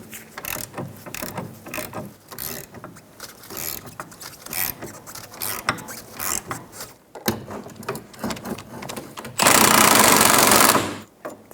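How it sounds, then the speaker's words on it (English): A 16mm socket on a ratchet backing off the rear sway bar link nut of a 2007-2012 Nissan Altima, a 17mm wrench holding the link: rapid close clicking ratchet strokes in bursts, then a louder continuous whir near the end. "Using a 16mm socket and a 17mm wrench, we're going to hold the back of the sway bar link while we take off the sway bar"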